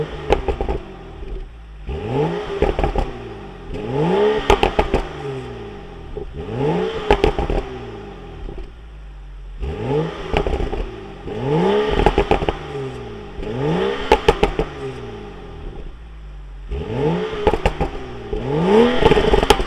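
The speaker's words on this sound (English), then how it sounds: "We're gonna give it a few revs and see what it sounds like." A BMW 435i with a Bootmod3 burble tune is revved repeatedly in neutral, each throttle blip rising and falling with crackles, in about six loud bursts separated by brief idle gaps.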